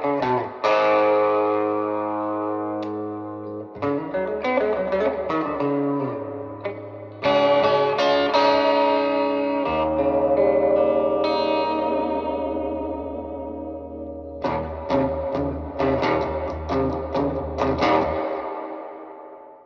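An electric guitar plays chords and single notes through a Hazelwood ThunderTone 15-watt amp on its clean channel with lush reverb and echo, ringing tails lingering between strums, no talking.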